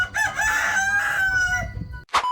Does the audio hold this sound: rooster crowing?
yes